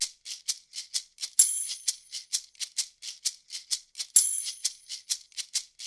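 Unprocessed percussion sample layer, dry and bright, playing a steady repeating 6/8 pattern of short hits with a couple of louder accented strikes, alone with no voices.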